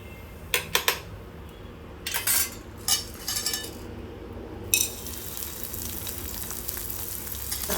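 Ingredients for dry fruit laddu, such as edible gum and almond pieces, fry in a pan with a soft steady sizzle, broken by scattered clinks and scrapes of a metal spoon against the pan.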